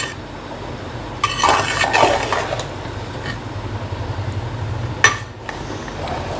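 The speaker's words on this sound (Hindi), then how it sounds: "अब इसको अच्छे से मिक्स कर देंगे।" A spoon scrapes and clinks against a pot while sweet jaggery rice is stirred, giving bursts of metallic scraping and one sharp knock, with a low steady hum underneath.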